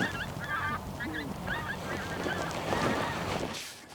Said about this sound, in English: Just hear the geese.